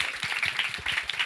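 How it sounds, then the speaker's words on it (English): An audience applauds speakers at the close of a community-building talk, with dense, steady clapping from many hands filling a short burst. "let's give your speakers a round of applause"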